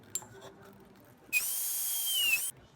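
A power drill fitted with a 1.8 mm bit bores into a phone holder part, giving one loud, steady high-pitched whine of about a second after a brief tick, close and alone.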